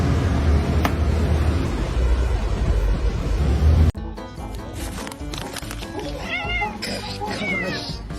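A cat meows several times in short, shrill, rising cries over the last four seconds, close and fairly loud, after a stretch of steady broadband noise.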